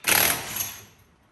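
A brief burst of a power tool whirring while removing parts during a Warn winch install on a UTV, loud at first, then trailing off over about a second.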